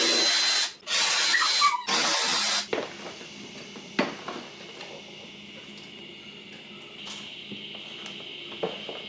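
Power driver spinning out T15 screws from the headlight of a 2015-2022 GMC Canyon truck, loud bursts of whirring near the start, then quieter clicks and handling noises.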